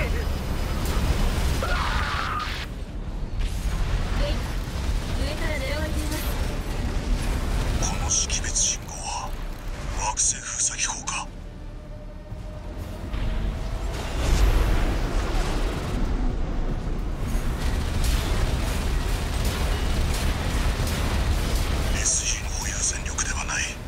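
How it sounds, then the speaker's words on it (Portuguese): Explosions from Armored Core VI mech combat erupt in loud bursts over a constant rumble of engines and gunfire, with bright blasts around the middle and end, while someone talks casually over the action. "Ah, explodiu um safado."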